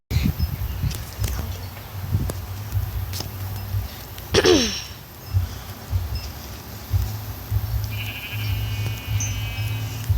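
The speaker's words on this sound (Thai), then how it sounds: "เจอแกะแล้วนะคะ" Outdoor sheep give a clear bleat partway through, set against steady low rumble, rustling and footstep-like movement, with quieter calls elsewhere.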